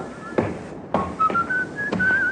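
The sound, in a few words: man whistling in a radio drama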